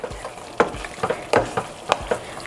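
Mutton karahi frying in a pan while being stirred, with rhythmic scraping strokes of a spoon every half second or so over a low, close sizzle.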